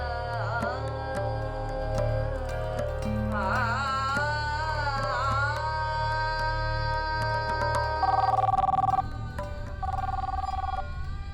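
An electronic phone ringtone plays a repeating melodic tune for several seconds, steady and clear with no voices over it, in a TV crime drama.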